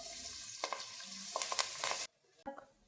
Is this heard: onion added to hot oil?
yes